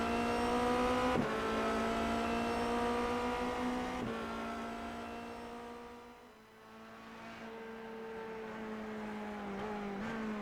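A Formula 3 open-wheel race car laps Donington with a steady, high-pitched engine whine that drops sharply at gear shifts and briefly dips mid-lap before climbing again, loud and close throughout.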